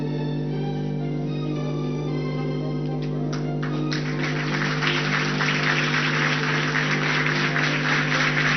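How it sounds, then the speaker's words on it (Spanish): A seated crowd at an official ceremony for signing a law that increases specialist doctors bursts into applause partway through. Scattered claps swell into a steady, dense roar of clapping over a constant low hum. "Más fuerte el aplauso entonces"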